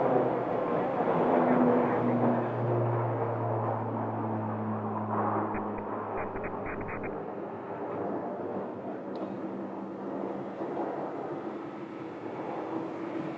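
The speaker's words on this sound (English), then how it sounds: "we have a Pilatus departing. A little PC-12 right there." A Pilatus PC-12 turboprop departing from Scottsdale makes a rumbling engine drone with a low steady tone that fades slightly over time, and faint speech-like sounds come through in the middle.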